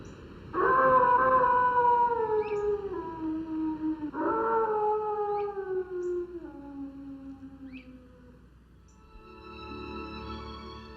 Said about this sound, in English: the red wolf's lonely howl in the wild exists only on film